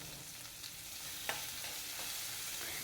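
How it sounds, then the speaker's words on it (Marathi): Chopped onion sizzles steadily in a pan with curry leaves as it is stirred, a continuous frying hiss broken by a few soft scraping strokes, with no voices. "कांदा छान गुलाबीचा रंगावरती परतून द्यायचा आहे।"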